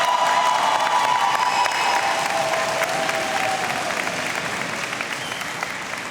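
Sustained applause and cheering from the audience at a high school graduation ceremony, a dense wash of clapping with scattered shouts that gradually tapers in loudness over several seconds.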